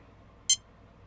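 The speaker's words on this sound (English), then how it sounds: "it does beep when you try and do a low throttle" A single short, high electronic beep from a Castle Sidewinder 4 RC speed controller at low throttle rings out once over faint background hiss.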